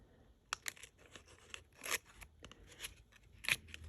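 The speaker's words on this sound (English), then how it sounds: "So I'm just going to cut this off." Scissors snip through hummingbird rice paper in a handful of quick, crisp cuts with small crinkles between them, close up and quiet.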